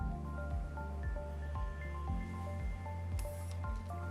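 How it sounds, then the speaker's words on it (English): Dirty water drains from the drain valve of a Jeio Tech ST-G lab autoclave, a quiet run of bubbling, gurgling drips with a rhythmic pulsing flow and a brief hiss near the end. "Then open the drain valve and drain the dirty water."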